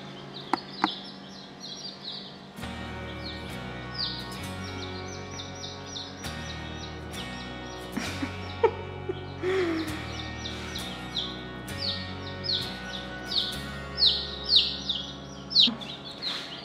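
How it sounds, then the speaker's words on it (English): Baby chicks peep in a steady run of high, rapid chirps close by, with a few louder peeps toward the end over a low background hum. "Look at the chicks."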